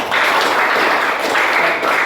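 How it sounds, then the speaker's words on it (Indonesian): A crowd claps together in a loud, steady burst of applause, filling the whole moment with no one speaking over it. "Tepuk tangan."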